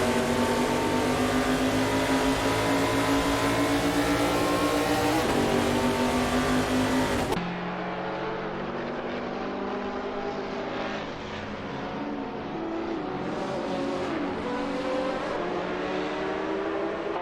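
Race cars in Gran Turismo Sport roar steadily at close range, with engine drone running continuously; the tone shifts partway through as a different car's sound takes over, without any talk.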